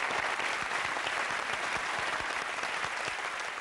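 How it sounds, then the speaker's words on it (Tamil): Applause from both sides of a studio audience on a Tamil TV celebrity show for VTV Ganesh: a steady, even wash of many hands clapping at moderate distance, with no voices. "VTV கணேசருக்கு ஒரு மிகப்பெரிய கைத்தட்டு ரெண்டு சைடுல இருந்தீங்க."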